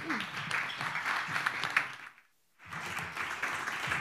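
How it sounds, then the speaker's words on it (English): A conference audience claps for a speaker on distributed manufacturing and open source, a dense steady patter that drops away briefly near the middle and then resumes at full strength. "Please give him a big round of applause."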